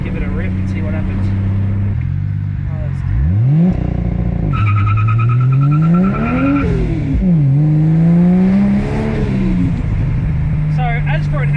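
A Ford Falcon launches hard using its factory launch control on a racetrack: the engine revs and holds, then surges with rising, sweeping gear pulls and a brief tire squeal, loud and close, with people talking over it.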